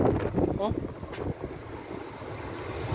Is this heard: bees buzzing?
no